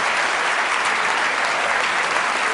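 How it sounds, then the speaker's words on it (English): Sustained applause from an audience, dense and steady clapping that fills the whole stretch without letting up. "let's give all 4 of these people a nice round of applause."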